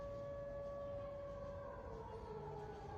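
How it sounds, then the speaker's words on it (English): A steady wailing air raid siren drones from afar in Russia, its pitch slowly sliding down, with a second faint siren blending in the background. "quite a lot of air raid sirens"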